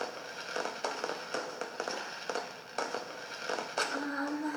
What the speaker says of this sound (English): Looks like they're fireworks.